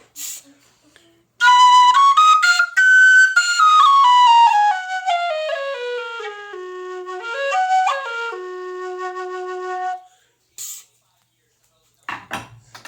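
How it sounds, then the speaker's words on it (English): A tin whistle plays loud, clear, piercing notes that step and slide downward in a wavering phrase, followed by a brief blip and a few soft knocks, with no talking. "And I play his whistle horribly."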